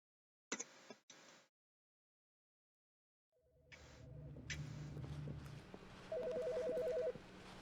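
An office telephone in The Stanley Parable sounds in short repeated electronic ring bursts, first two clipped rings alone, then more ringing layered over a rising game ambience with buzzing tones.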